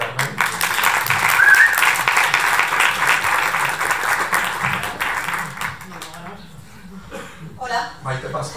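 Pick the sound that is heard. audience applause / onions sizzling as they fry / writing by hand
audience applause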